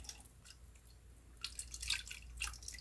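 Lye water poured down the shaft of a stick blender for cold process soap, giving a quiet, steady trickle that grows into louder splashy drips toward the end, with no talk.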